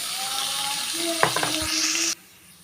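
Beans and carrots sizzle steadily in butter in a pan, with a few clatters of stirring midway, before the frying sound cuts off sharply.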